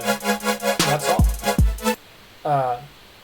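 Supersaw synth patch with 16 detuned unison voices for future bass, heard as short bright buzzy chords and a couple of deep pitch-dropping hits, then a lone sustained chord after a brief gap.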